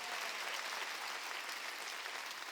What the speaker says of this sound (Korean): 박수로 하나님께 영광 돌려라.